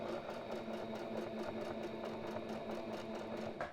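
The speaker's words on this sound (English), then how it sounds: "You are watching Dad sew a pillowcase for the first time." A sewing machine stitches a pillowcase in a fast, steady mechanical chatter, close and continuous with an even motor hum under it, and no talk.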